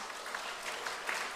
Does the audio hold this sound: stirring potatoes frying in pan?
no